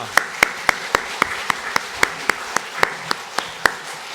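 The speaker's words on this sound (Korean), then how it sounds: "격려와 위로와 칭찬과 감사의 박수를 올리겠습니다" A church congregation claps during a Sunday morning worship service. The claps are sharp and evenly spaced in a steady rhythm of roughly four per second, moderately loud, with no talking.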